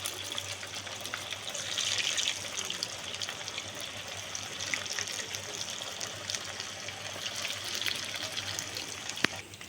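Breaded chicken lollipops frying in hot oil on low heat, a continuous close sizzle and crackle with a soft bubbling texture, steady throughout with one sharp pop near the end, no voices.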